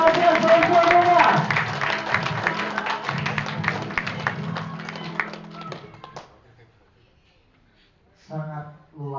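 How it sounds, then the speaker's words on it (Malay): Audience applause at an indoor gathering, a burst of dense clapping that slowly thins and fades into quiet, followed by a brief spoken voice at the close. "Berikan tepuk tangan yang untuk Malaysia semuanya."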